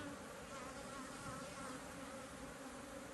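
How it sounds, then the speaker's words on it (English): Steady, dense buzzing of many honey bees around beehives in an apiary yard, continuous and fairly quiet, with no talking. "I want to get these bees down."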